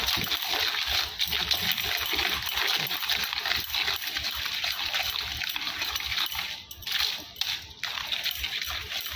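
Coconut macaroon mixture being stirred by hand, a continuous wet sloshing and scraping with clumpy, uneven strokes, close and moderately loud, with no talking.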